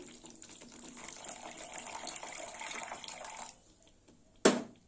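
Water is poured into a pan of pointed gourd curry in yogurt, a soft gushing pour lasting a few seconds before stopping abruptly, followed by a sharp single clatter.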